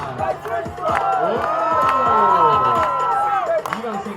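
A Times Square crowd at a street dance performance in New York cheers, whoops and shouts loudly and continuously, with overlapping voices and scattered sharp claps close by.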